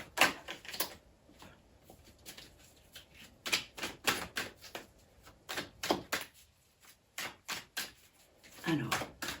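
Tarot cards being shuffled by hand in quick bursts of riffling and slapping, close and crisp, with short pauses between runs and a voice talking briefly near the end.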